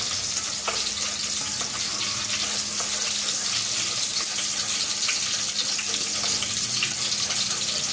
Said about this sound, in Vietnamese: Mình cháy mỡ tỏi cho nó vàng lên